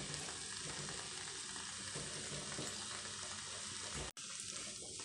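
Broccoli stir-fried Kerala style with crushed coconut crackles steadily in a pan under some scraping and stirring, with a brief dropout near the end and no voices.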